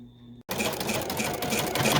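An embroidery machine sews a large white satin stitch section on an in-the-hoop paw Christmas stocking, starting abruptly after a brief quiet hum and then running as a fast, steady mechanical needle chatter close by.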